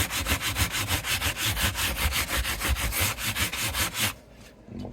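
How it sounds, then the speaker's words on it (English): A sanding sponge scrubs the frets of a Fender Squier P bass in quick, steady back-and-forth strokes, close and fairly loud, then stops abruptly near the end. "I'm going to take my sanding sponge here and just rough up these frets"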